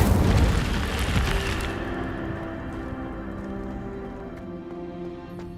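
Incendio fire spell cast in Hogwarts Legacy, a heavy whooshing boom that hits loud at once and then trails off into a long, fading rumble over quiet music.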